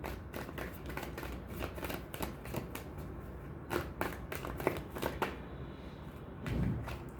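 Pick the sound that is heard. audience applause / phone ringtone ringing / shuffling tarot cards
shuffling tarot cards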